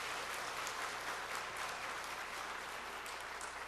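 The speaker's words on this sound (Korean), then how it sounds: "다시 한번 격려의 박수 부탁드리겠습니다" A church congregation applauds in encouragement after a choir's praise song, producing steady, even, full-room clapping that continues throughout without talk.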